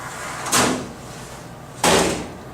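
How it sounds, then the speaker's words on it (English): The low clearance door of an Insinger Commander 18-6 dishwasher is pulled down to close, making two loud sliding clunks about a second apart over quiet background hum. "To close it, simply pull the handle down."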